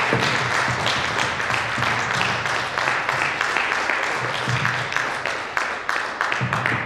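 A crowd at an anniversary event claps in uneven, fluctuating applause as someone comes on stage, loud and close, with bursts rising and dipping over several seconds.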